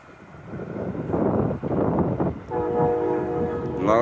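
An Amtrak train rolls past a graveyard, a rising rumble of wheels and cars close by with wind buffeting the microphone, followed by a sustained horn blast near the end.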